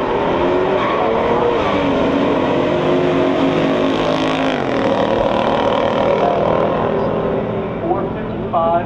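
A 1970 Camaro with a 396 L78 engine and a 1971 GTO race side by side, their engines roaring loudly and continuously with a rising pitch sweep, under a voice commenting throughout.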